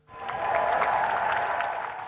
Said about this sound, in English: Clapped into Downing Street by a mass of old friends and allies